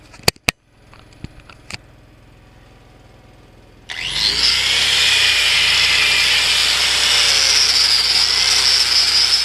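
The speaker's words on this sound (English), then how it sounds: "Wire brush this shaft down on this fan here." A wire brush on a power tool scrubs down a metal fan shaft on a broken Nuhn spreader, starting abruptly after a few sharp knocks and then holding a loud, steady, harsh abrasive whir to the end.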